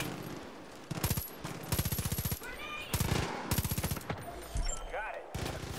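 A shovel launcher gun in a video game, firing in several loud rapid bursts separated by short pauses, with game effects in the gaps.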